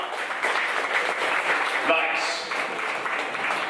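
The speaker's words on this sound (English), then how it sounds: "How about a round of applause for the world premiere, huh?" Audience applause at a film premiere, a steady wash of clapping from a crowd with voices talking and calling out over it throughout.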